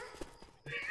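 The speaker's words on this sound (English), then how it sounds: "There's a donkey." A brief donkey-like braying whinny played as a stream sound alert during a Left 4 Dead 2 session, short and fairly faint with harsh, rising tones.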